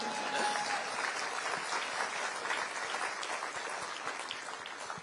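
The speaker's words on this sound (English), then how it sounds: "That's right, you should clap." Audience applause at a live Diana Award mental health panel event, a sustained, even wash of many hands clapping, slightly distant and fading a little toward the end.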